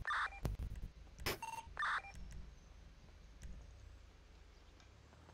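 Phone number keyed in on an in-game phone in GTA V: a quick series of electronic dial tones and beeps in the first two seconds, followed by faint clicks against a quiet background.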